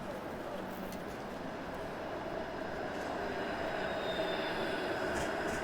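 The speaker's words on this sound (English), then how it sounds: "There's a Dundas streetcar." A Dundas streetcar passes on a Toronto street, a continuous rolling rumble of steel wheels on rails with faint squealing, steady and moderately close throughout the clip.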